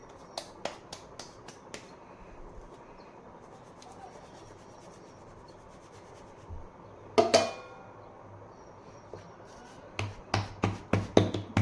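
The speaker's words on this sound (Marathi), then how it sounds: "पातळ अशी हलक्या हाताने भाकरी थापून घेऊया" Bhakri flatbread dough in the Karnataka style is patted thin by hand on a plate, making soft, close pats and slaps in a quick series near the end, with faint rubbing before them.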